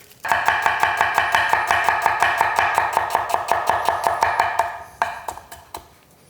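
A knife chops a red onion on a board, a fast, even series of about twenty sharp close cuts followed by a few slower, scattered strokes.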